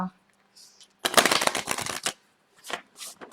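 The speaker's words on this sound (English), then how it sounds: "So we'll give them a good shuffle." A quick riffle of shuffled tarot cards, a dense rapid flutter lasting about a second, followed by a few softer card taps and slides.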